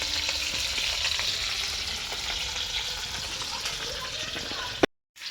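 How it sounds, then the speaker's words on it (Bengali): Cauliflower fries in white oil in a pan on a clay stove, a steady continuous crackling hiss with occasional stirring clinks, ending in a sudden cut. "ফুলকপিটা ভেজে নিচ্ছে সাদা তেলে"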